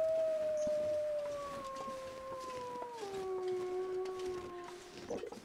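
A wolf howls in The Long Dark, a survival video game, with one long, drawn-out wavering howl. A second overlapping howl joins it partway through. Both sound fairly distant over a low wind-like background.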